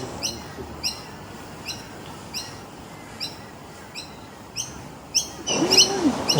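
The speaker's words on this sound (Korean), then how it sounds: "새소리도 좋아." Small birds chirp in short, bright bursts spaced about every half second, with a cluster of quicker, louder tweets near the end, along a tree-lined path in Brisbane, Australia.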